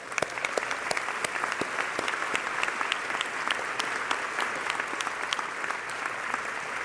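Graduation-ceremony crowd at a community college applauding, with many individual hand claps crackling through a steady, moderately loud wave of clapping that lasts the whole stretch.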